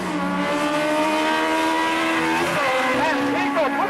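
Race cars running side by side at Tosa Raceway Park, a loud sustained engine drone with rising and falling pitch as they pass, an announcer talking over it.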